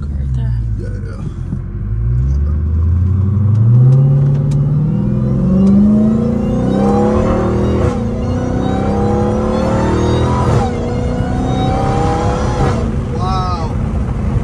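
A Dodge Challenger Hellcat Redeye with a new cold air intake accelerates hard through the gears, a loud rising supercharger-style whine and rumbling engine climbing steadily, with people talking over it inside the car.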